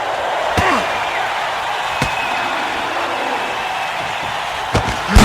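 Heavy boxing punches land in Fight Night Round 2 on the PS2, with three sharp, widely spaced thuds cutting through a steady crowd roar.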